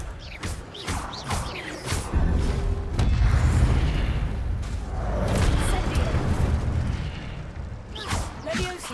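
Incendio fire spells cast in Hogwarts Legacy burst as repeated booming, crackling blasts over a dense, loud wash of combat noise that continues throughout.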